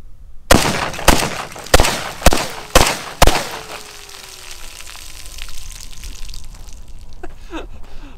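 Six loud, sharp rifle shots ring out at a steady pace and are fired into a lake outdoors, each one echoing briefly. Faint splashing and quiet ambient sound follow once the shooting stops.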